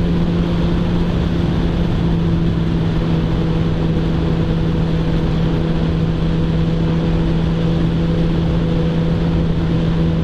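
A 600cc motorcycle engine runs with a loud, steady droning hum and strong low tones, close by and unbroken for the whole stretch, with wind noise mixed in and no talking.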